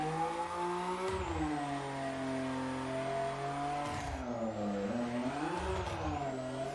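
Starter car engine in the drifting video game Drift Reign: a loud, continuous rasp with the revs rising and falling repeatedly, cut by brief sharp drops and bursts as the throttle is lifted and reapplied.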